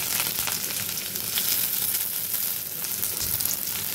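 Chopped onion sizzling and frying steadily in hot oil in a pan, a continuous crackling hiss that stays close and fairly loud throughout with no talk.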